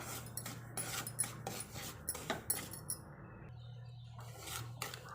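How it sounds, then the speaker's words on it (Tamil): Dry semolina (rava) roasting in a pan and being stirred with a spoon, a steady run of faint scraping and rasping clicks over a low background hum, with no talking. "இப்போ நம்ம இதை வறுத்துக்கலாம் ஒரு ரெண்டு நிமிஷம் வறுத்துக்கலாம்"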